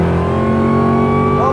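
A Cadillac CTS-V wagon accelerating hard, heard from inside: a loud, strained engine roar with strong tonal harmonics that climb in pitch near the end.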